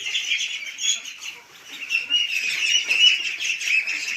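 Young ducklings with an eye ailment calling, a continuous stream of thin, high peeping from several birds close by, moderately loud, with no talk.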